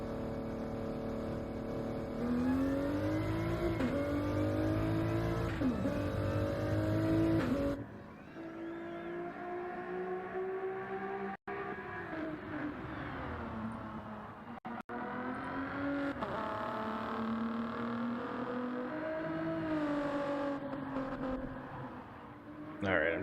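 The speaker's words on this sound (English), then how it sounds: "this car sounds fantastic" A Gran Turismo GR3 race car in a qualifying session roars steadily, its engine note rising and falling through gear changes and revs, loud and continuous throughout, with a short gap midway.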